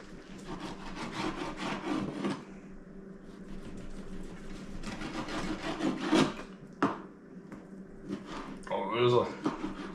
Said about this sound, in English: Boy, this knife doesn't seem to be sharp anymore. I'm gonna go sharpen